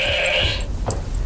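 A goat bleats in a Mountain Goat Beer radio ad: a loud, wavering bleat lasting more than half a second, then a short higher cry, over a steady background with no talk.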